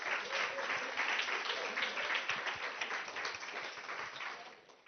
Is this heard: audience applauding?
yes